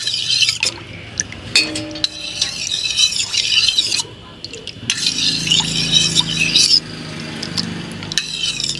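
Coconut milk ice cream batter thickened with cornstarch, stirred in a metal pot set in a basin of water: repeated scraping and clinking of the spoon against the pot in bursts, close and fairly loud, with brief pauses.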